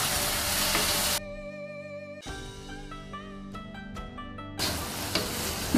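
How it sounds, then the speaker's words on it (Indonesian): Oyong cooking in a pan with egg, oyster sauce and a splash of hot water, with bursts of sizzling at the start and end and quieter tonal sounds between them. "Lalu masukkan telur. Kemudian tambahkan sedikit air panas dan kita aduk merata."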